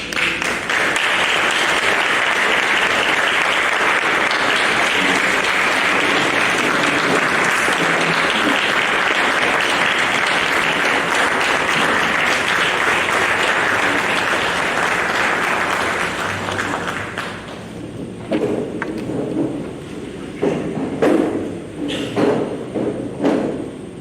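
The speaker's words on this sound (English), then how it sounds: "Can we give another round of applause?" Sustained audience applause at a city council meeting in Perry, loud and continuous for about seventeen seconds, then tapering into scattered claps and room noise.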